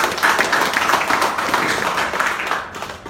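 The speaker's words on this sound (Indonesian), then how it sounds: "Tepuk tangan dulu Bapak Ibu." An audience at a seminar on insurance agents bursts into dense, sustained clapping that fills the room for about three seconds before tapering off.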